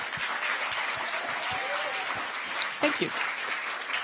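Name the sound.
audience applause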